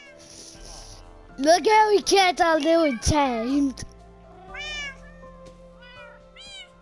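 Cats in a pet store meow repeatedly and loudly at close range, a quick run of rising and falling cries followed by softer, more distant meows, with a person talking over the start.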